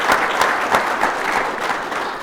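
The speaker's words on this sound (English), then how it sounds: "Let's give our panelists a round of applause and say thank you." A conference audience applauds a farmers-in-politics panel, giving a brief, dense burst of clapping from a full room with no voices on top.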